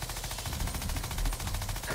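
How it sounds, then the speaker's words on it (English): An Uzi fires in Worms Revolution, a fast, even rattle of rapid shots lasting about two seconds, fairly faint and steady, with no talk over it. "You got like an Uzi out or something."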